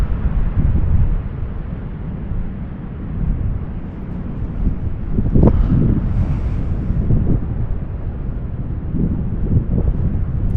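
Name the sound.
ocean waves and wind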